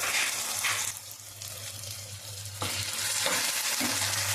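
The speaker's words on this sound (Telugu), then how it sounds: "వెల్లుల్లి రబ్బ టమాటాలు వేసుకున్నాను, అవి కూడా కలిపేస్తున్నాను" Garlic and tomatoes sizzle in a frying pan while a spoon stirs them, giving a continuous hiss broken by scraping and stirring bumps, all up close.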